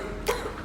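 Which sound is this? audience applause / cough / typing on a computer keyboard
cough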